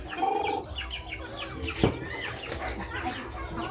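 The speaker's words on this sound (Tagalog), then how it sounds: "Marami kayong mga manok, mga papo, dito." Chickens cluck in a busy, overlapping chatter, with a sharper squawk midway and faint voices in the background.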